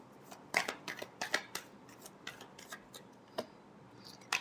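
Tarot cards are shuffled by hand in a final shuffle, making quiet, close, irregular snaps and soft flicks spread across a few seconds.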